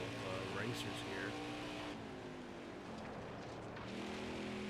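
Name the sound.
race cars on track in NASCAR Heat 5 video game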